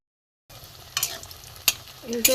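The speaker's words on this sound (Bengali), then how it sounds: "এপিট ওপিট করে ভালো করে ভেজে নেব।" Cutlets made from stale roti fry in oil in a pan, with a soft crackle broken by sharp scrapes and clacks of a spatula turning them, starting after a short silence.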